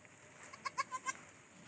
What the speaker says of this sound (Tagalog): Sumisigaw nga ang mga kambing pag di nila makita yung mga kasama niya.